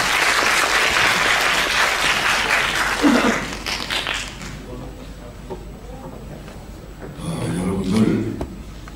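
An audience at a Korean-language speech contest claps loudly to welcome the head judge, the applause filling the first four seconds and then dying away. Quieter room sounds and a brief burst of voices follow.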